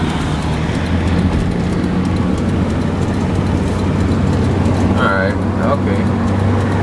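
Busy city road traffic in Port of Spain, heard from inside a vehicle. Engines rumble steadily and loudly throughout, and a brief horn-like tone sounds near the end.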